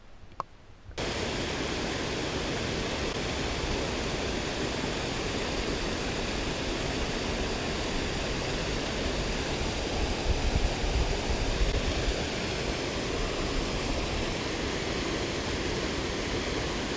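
A waterfall pours into a crystal clear trout stream in a nature park, giving a steady, loud, broadband rush that starts after a brief quiet moment and runs on unbroken, with no talk over it.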